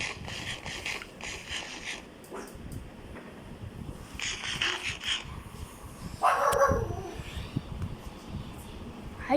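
A dog in a video game barks and yips in a few short bursts, moderately loud against a busy game soundscape with other background noise.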